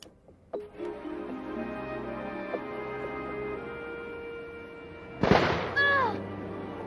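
A firecracker goes off with one sharp, loud bang late in the clip, followed by a brief crackling tail over a quieter background of steady tones.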